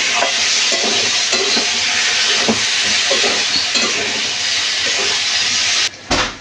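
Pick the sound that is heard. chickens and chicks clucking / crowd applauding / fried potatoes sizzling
fried potatoes sizzling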